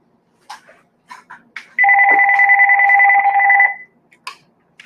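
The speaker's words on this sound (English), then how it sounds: "Sorry, my phone." A telephone rings loudly and close, one long sustained electronic double-tone burst of about two seconds, set between brief faint clicks and rustles in an otherwise quiet room.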